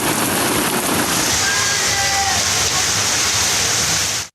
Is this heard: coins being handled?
no